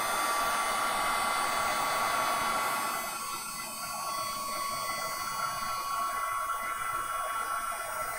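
A hair dryer blows steadily and loudly at close range, heating and drying a mixture, with a faint high whine running through its rushing airflow that eases slightly partway through.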